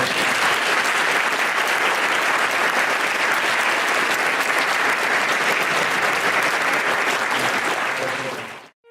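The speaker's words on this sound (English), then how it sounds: "And let's give Shelton a round of applause." Sustained applause from a crowd, loud and steady for several seconds before cutting off abruptly at the end.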